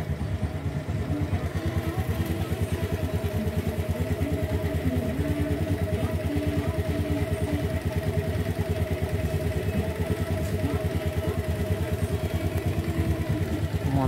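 Honda Beat scooter engine running roughly and sputtering, a steady close mid-pitched putter with irregular clattering pulses throughout.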